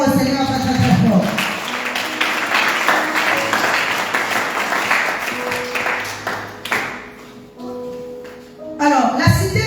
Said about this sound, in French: Acclame encore le Seigneur très très très fort.